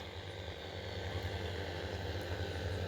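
An agricultural spraying drone flies over a pigeon pea crop, a steady mechanical drone of rotors humming overhead, a low constant buzz with no voices.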